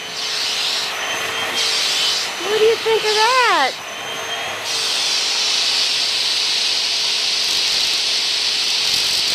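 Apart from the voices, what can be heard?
vacuum cleaner vacuuming a cat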